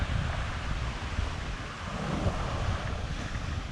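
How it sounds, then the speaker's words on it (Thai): Strong sea waves at Mae Ramphueng beach on a late morning, a steady broadband roar of surf with constant wind buffeting the microphone, continuous and fairly loud with no voices. "เขาสายแล้วคลื่นแรงนะครับ"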